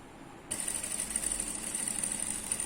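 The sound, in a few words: sewing machine stitching trouser hem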